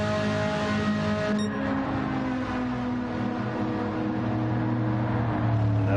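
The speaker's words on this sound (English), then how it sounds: "And a lovely burble from the Lexus," A Lexus race car at Monza gives a steady, rumbling engine burble that holds at a constant pitch throughout, loud and close, with no talking.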